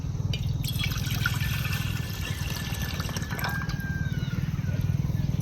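A full jug of water poured into a cooking pot while preparing an Ayurvedic decoction; a steady, close trickle and splash runs throughout over a low background hum.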